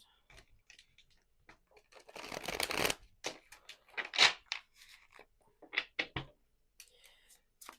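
Crisp tarot card shuffling in short bursts, one long riffling stretch followed by several quick snaps and flutters, close by with quiet pauses between.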